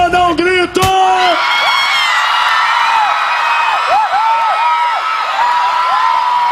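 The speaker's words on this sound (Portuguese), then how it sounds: "Quem gostou, dá um grito!" A live concert crowd at a Brazilian show screams and whoops loudly, high shrieking cheers rising over one another in a dense, sustained roar, with a voice calling out at the start.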